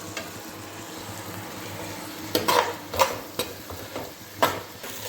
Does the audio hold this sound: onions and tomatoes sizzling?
yes